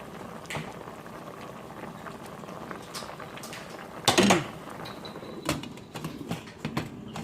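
Mackerel fish simmers in a covered pot, a quiet bubbling with scattered lid and pot knocks, one sharp clang partway through and lighter clinks after.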